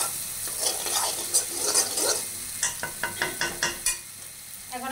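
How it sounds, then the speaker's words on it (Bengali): Spice paste for chicken gravy sizzles in a pan while a spatula scrapes and stirs it in a run of quick, rhythmic strokes, close and moderately loud. "তো আমার এগুলো হচ্ছে কষানো হয়ে গেছে"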